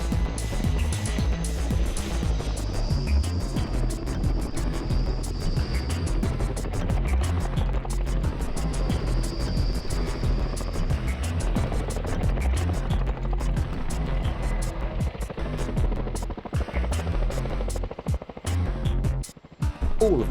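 An RAF Chinook twin-rotor helicopter at an air display gives a throbbing, fast rotor chop over a steady turbine whine, loud and sustained, with a brief dip near the end.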